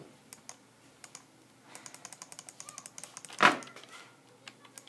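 Wood being chopped in the video game Minecraft: a quick run of light, evenly spaced tapping hits, with one louder, brighter crunch near the end, all close and fairly quiet.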